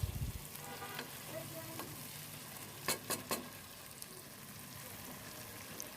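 Egg korma with milk, sour yogurt and spices being stirred in a pan, giving a steady soft sizzle with a few sharp scraping clicks of the spoon near the middle. No one speaks.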